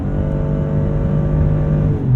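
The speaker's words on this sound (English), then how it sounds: "that 3-cylinder kick on, and it is loud" Loud, steady drone of the three-cylinder turbo gas generator engine in a 2021 Karma GS-6 Luxury, a low humming tone with harmonic overtones that holds constant throughout.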